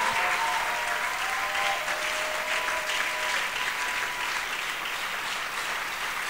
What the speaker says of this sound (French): Est-ce qu'on peut rajouter des acclamations pour Jésus?